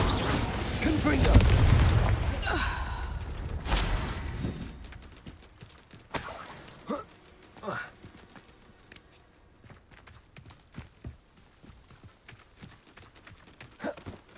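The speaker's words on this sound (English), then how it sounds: "Confringo" Confringo blasting spell explosions in Hogwarts Legacy combat: a loud, dense burst of booms and shattering in the first seconds, then scattered sharp cracks and clanks that fade and thin out.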